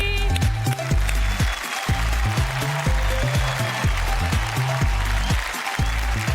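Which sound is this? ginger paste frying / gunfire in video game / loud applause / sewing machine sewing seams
loud applause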